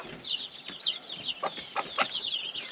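Hens and a pair of roosters in a small hobby coop give soft, scattered clucks, faint and close, with short bursts of calls spaced irregularly.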